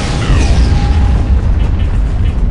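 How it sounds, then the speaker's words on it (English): A rocket launcher explosion in Aliens vs Predator 2 lands as a loud, close boom and rumble with a falling whistle-like tone over sustained low-end noise. "that's just a guy with a rocket launcher shooting at me"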